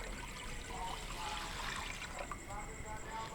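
Water pouring steadily into a pot to start a sugar syrup for metha paira, a continuous trickling splash under a low steady background.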